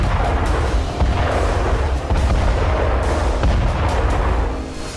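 Artillery cannons fire in a sustained barrage, dense overlapping booms and blasts rolling continuously and loudly with no clear gaps, as at a military border buildup.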